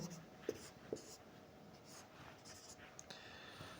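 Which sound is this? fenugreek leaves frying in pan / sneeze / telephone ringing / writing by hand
writing by hand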